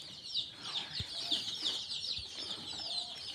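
Chicks about ten days old in a homemade coop, cheeping and clucking continuously at close range, with a few soft thumps of movement.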